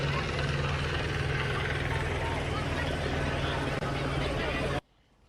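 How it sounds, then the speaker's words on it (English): A steady, loud helicopter drone with a low rhythmic blade thump, continuous and close overhead, cutting off abruptly near the end. "A helicopter overhead"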